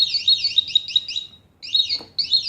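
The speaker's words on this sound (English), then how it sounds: "if any thief opens the cupboard, then the alarm alerts automatically" A cupboard door alarm triggered by opening the door sounds a shrill, rapidly warbling electronic siren close by, breaking off briefly before resuming.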